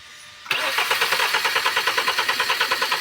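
A Kia Optima engine with a misfire cranks over on its starter during a compression test. It makes a loud, close, rhythmic chugging whir that starts abruptly after a brief quiet moment and holds steady pulses throughout.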